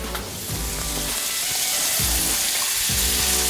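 Garlic hits a hot pan and sizzles loudly in a steady frying hiss, with a few soft clinks of a utensil stirring through it.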